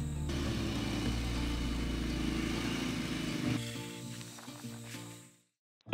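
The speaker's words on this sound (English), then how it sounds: "the quad bike can actually be handy on occasion" Quad bike engine running at a steady drone nearby, then shifting to a lower idle and cutting out before a brief loud knock at the end.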